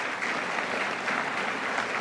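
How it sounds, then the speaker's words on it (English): A steady burst of audience applause follows a speaker at an event with Mayor Bloomberg. The clapping is dense and even and carries through the whole short stretch. "I think a nice round of applause for him would be in order."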